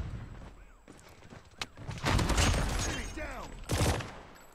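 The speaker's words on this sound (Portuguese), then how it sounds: "Arminha atira, moleque." Gunfire in a Rambo-style video game, with bursts of shots and sharp blasts clustered around the middle and end, loud against a busy game background.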